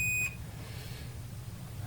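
A multimeter gives a short high electronic beep at the start while probing a shorted component on an original Microsoft Xbox, then cuts off, leaving only quiet hiss.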